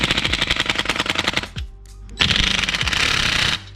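Close, loud bursts from an impact power tool driving the exhaust bolts on a Kawasaki Ninja 650, a rapid hammering rattle that stops briefly near the middle and then resumes for a second long run.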